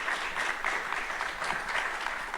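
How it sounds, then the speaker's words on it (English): Sustained applause from a summit audience honoring a panel of speakers, a continuous wash of many hands clapping at moderate volume, fairly even throughout with no speech on top. "Let's give all of our panelists a round of applause for their time today."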